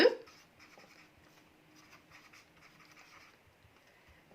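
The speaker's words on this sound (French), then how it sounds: "je vais écrire ici" A pen scratches quietly across paper while working through a maths exercise, a faint, steady run of small strokes for a few seconds after a brief louder tap at the start.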